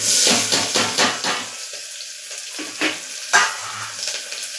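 Chopped onion tipped into a pan with garlic over a lowered gas flame for a mixed dal and rice bhaidku, giving a close, bright sizzle with scraping and stirring bursts that ease off and then flare again.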